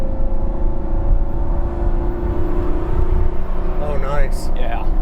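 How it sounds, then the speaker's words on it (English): A BMW 4 Series coupe, a 430i or 435i, approaches on the road and draws alongside, its engine and tyre noise rising over steady cabin rumble from a Lamborghini Gallardo Nera, with people talking throughout. "Here we go, got a BMW coming up on us."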